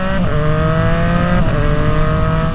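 A Yamaha MT-10 sport motorcycle engine revving hard, its pitch climbing steadily, dropping briefly at a gear change, then rising again as it keeps accelerating.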